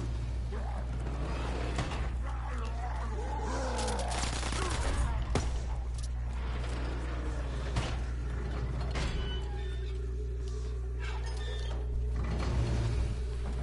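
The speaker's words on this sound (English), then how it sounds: "Damn, that Thompson specializes in headshots," Rapid bursts of Thompson submachine gun fire crackle through a video game battle against Nazi soldiers, mixed with other clattering game effects while a player talks.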